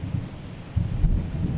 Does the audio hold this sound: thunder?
yes